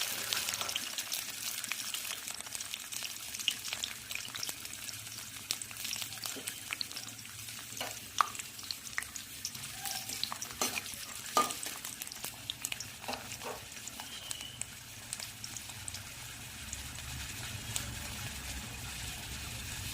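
Cashews frying in oil with sugar and salt make a steady crackling sizzle with occasional stirring scrapes, close and moderately loud, no voices.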